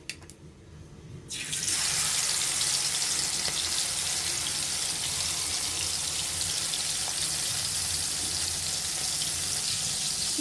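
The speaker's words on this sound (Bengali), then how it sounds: "এখন আমরা তেলে ভেজে নিব" Raw shrimp dropped into about one and a half tablespoons of hot white oil in a wok, bursting into a loud, steady, hissing sizzle after a short quiet start and holding continuously to the end.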